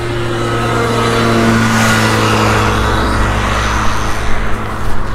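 A Peugeot 407 taxi replica driven around a racing circuit, its mid-pitched engine holding a steady drone, then rising in a rev with some uneven throttle bursts near the end, loud and close with no talk.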